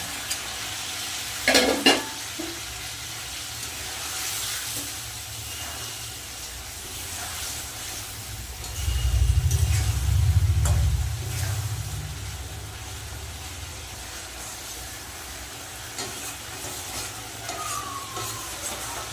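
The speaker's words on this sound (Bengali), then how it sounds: "ঝোল কিন্তু ফুটে গেছে ভেজে রাখা মাছগুলো দিয়ে দেবো" Pre-fried bele fish goes into boiling gravy for a tel jhal, giving a soft, steady sizzle and bubbling, a sharp utensil clatter early on, and a louder low rumbling burst about halfway through.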